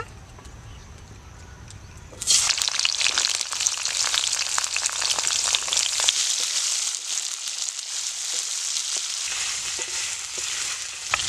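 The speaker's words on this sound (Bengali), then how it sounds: "এবার কেটে রাখা ফুলকপিগুলো ভেজে নিব" Cauliflower pieces dropped into hot oil in a wok burst into a loud, steady sizzle that stays strong and close, with faint stirring under it.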